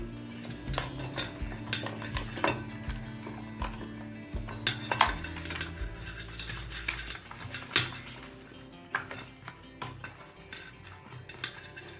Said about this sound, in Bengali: হাফ চামচ নুন আর হাফ চামচ হলুদ গুঁড়ো দিয়ে দিলাম এবার এটা মাছের মাথার সাথে মেখে নেব